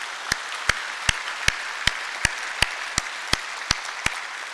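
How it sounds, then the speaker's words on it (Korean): A church congregation at an Easter Sunday worship service claps in unison, eleven evenly spaced sharp hand claps sounding close and distinct over a low, quiet room. "부활의 주님께 감사와 영광의 박수를 한번 올려드리실까요?"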